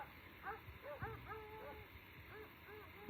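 Several sharp barks and yips of dogs ring out at a distance at a wildlife sanctuary, scattered irregularly over a steady outdoor hum, with faint voices mixed in.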